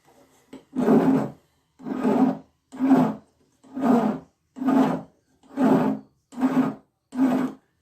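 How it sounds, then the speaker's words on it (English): Metal file rasping across a ring blank being made for inlay, eight steady strokes in an even back-and-forth rhythm, close and clear with short pauses between each stroke. "When you're filing a surface like this, always keep your file in a rounded motion."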